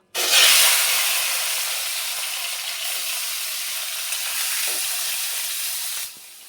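Shrimp coated with salt and turmeric, with green chili, fry in hot oil in a kadai, giving a loud, steady, hissing sizzle that starts abruptly, holds evenly for several seconds, then cuts off.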